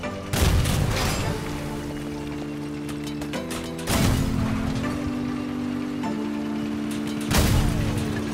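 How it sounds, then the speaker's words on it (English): Missiles striking targets in the vehicle combat game Crossout, heard as three heavy explosive blasts spread across the stretch over a steady droning engine hum. "Can we get them with my missiles?"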